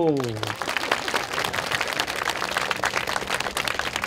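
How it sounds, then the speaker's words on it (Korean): Applause from an audience at a university debate forum fills the space with steady clapping after a brief spoken voice at the start. "우리 원로 교수님에게 박수."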